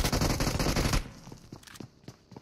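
Shotgun gunfire in the BGMI battle royale game: a dense, loud burst of rapid shots for the first second, then scattered sharper single blasts and clatter at lower level.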